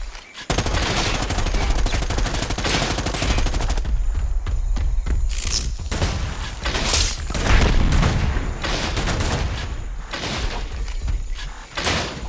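Loud, dense gunfire in the video game Predator: Hunting Grounds, with rapid automatic bursts, booms and metallic clanks. The firing comes in waves for the whole stretch.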